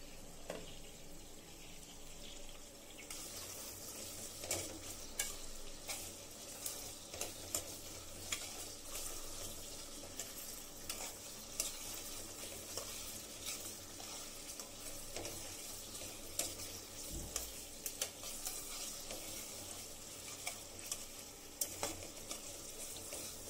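Cabbage stir-fried in a pan, a steady sizzle with repeated sharp scrapes and clatters of a utensil stirring, close and fairly quiet, with faint running-water sounds in the background.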